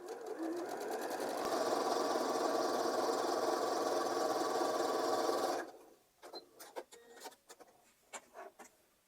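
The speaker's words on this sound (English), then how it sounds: "we're just going to sew down one line" Sewing machine running a long continuous seam through quilt fabric pieces, a loud steady rapid whir for several seconds, then stopping, followed by faint scattered handling clicks and rustles.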